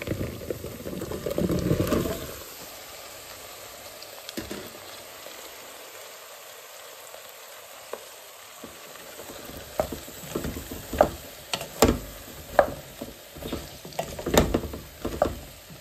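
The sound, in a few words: pitha frying in hot oil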